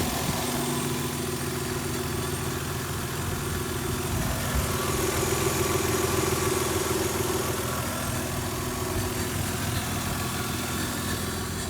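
A car engine idles steadily while its coolant is bled, a constant low rumble with a faint hum that barely changes over the span, no speech.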